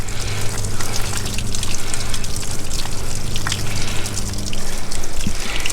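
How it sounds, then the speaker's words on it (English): Water empties from a travel trailer tank with a steady close gushing and trickling, splashing continuously at a fairly loud level, no talking. "as you do that, you're gonna start seeing all your water come out"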